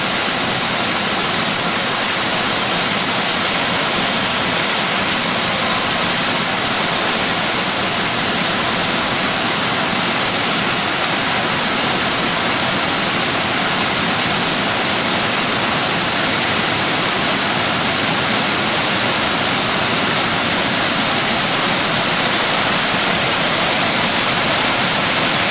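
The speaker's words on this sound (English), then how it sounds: "This is the Falls City Falls when the water's high in the wintertime." Falls City Falls running high with winter water, a loud, unbroken rushing roar of the waterfall heard close up, steady throughout with no voices.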